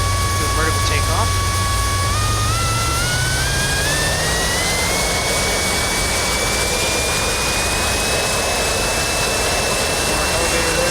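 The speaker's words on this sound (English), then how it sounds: "we're going to go ahead and do a vertical takeoff" A simulated jet engine in RealFlight 5 spools up steadily for a vertical takeoff with swiveling nozzles, its whine rising in pitch and holding loud and continuous while someone talks over it.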